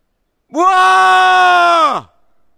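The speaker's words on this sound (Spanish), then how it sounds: "Voy a pegar un chillido" A man lets out one loud, sustained scream outdoors in an abandoned village in Galicia, a single long, close, bleating cry lasting about a second and a half that ends abruptly.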